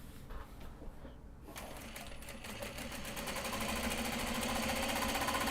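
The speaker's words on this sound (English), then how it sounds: "I'm going to go in and do all the top stitching along the top fold here" A sewing machine runs top stitching along a fold on a mini traveller welt pocket, starting after a quiet moment and building into a steady, fast, even whir that continues to the end, close and alone.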